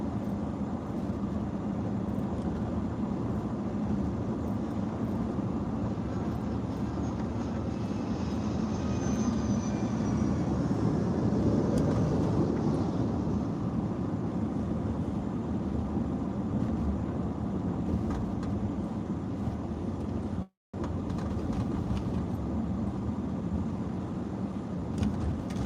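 A fixed-wing airplane passing overhead, heard from inside a moving truck on the road, as a broad rising and fading roar peaking midway over constant road and engine rumble, with no talk.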